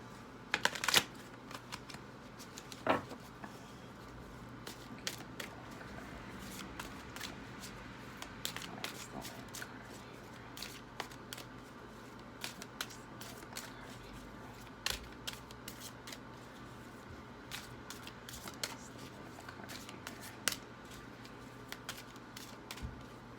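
Oracle cards are shuffled for a reading, a soft, steady riffling and flicking of card stock with scattered crisp snaps over a quiet, low room hum.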